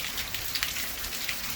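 Steady rain pattering on a surface, a dense, even hiss of drops throughout with a few slightly louder splashes, no voices present.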